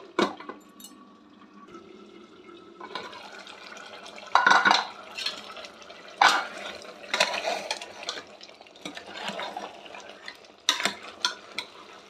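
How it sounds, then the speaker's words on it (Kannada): Mutton gravy is stirred in a pot that is partly covered between turns, making scattered scraping and clattering of the spoon against the pot. Soft simmering sits between the louder clinks. "ನಾನು ಸ್ವಲ್ಪ ಮುಚ್ಚಿ ಮತ್ತೆ ಒಂದೆರಡು ಸಲ ತಿರುಗಿಸ್ಕೊಳ್ತೀನಿ"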